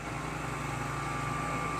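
A steady Ingco bench grinder motor hum with a constant whine, running evenly and fairly quietly throughout, no voices.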